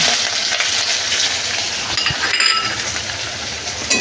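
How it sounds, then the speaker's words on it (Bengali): Sliced onions fry in hot oil with cardamom, cinnamon and a bay leaf for mutton kosha, a steady close sizzling hiss with the occasional clink of a utensil. "তো পেঁয়াজগুলো হালকা করে লাল লাল করে ভাজি করে নেব"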